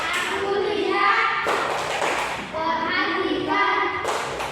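Children in a classroom doing a rhythmic focus clap during a Bible lesson on Abraham, chanting together with patterned claps and taps in short bursts.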